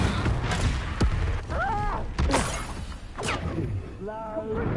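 Explosive blasts from a Confringo spell in a Harry Potter game, several heavy booming impacts going off one after another at close range, mixed with a voice and other game sounds.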